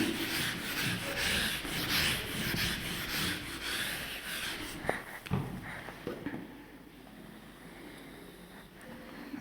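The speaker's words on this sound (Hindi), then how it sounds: "एक बार ऊपर वाले डेफिनेशन को रब कर दे" A board being wiped clean during a thermodynamics lecture, with a steady dry rubbing and scrubbing that runs for several seconds, then turns into a few scattered knocks and brushes before fading into quieter room noise.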